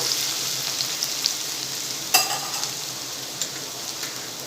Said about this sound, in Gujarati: આપણે અડધી મિનિટ લસણને થોડું સંતળાવા દઈશું